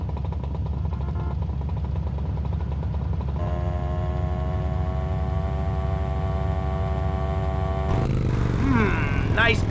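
Motorcycle engine in GTA Vice City, a steady low rumbling drone running throughout, mixed with tonal game music and other in-game sounds, with a brief louder shift near the end.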